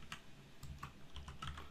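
Quiet, rapid keystrokes on a computer keyboard while filling in document properties, a soft, irregular run of clicks with no talking.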